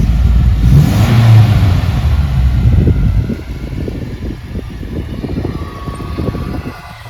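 An abandoned Volvo 240, left standing for about 19 years, with its engine revving loudly and close by in steady surges, a low rumble running through the whole stretch.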